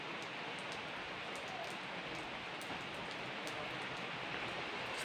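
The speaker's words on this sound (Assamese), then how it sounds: "গাইজ বৰষুণৰ টোপালবোৰ পৰিছে তাত" Raindrops from a sudden rain shower fall in a constant, soft hiss of steady rainfall with faint scattered drips on a surface, and no talking.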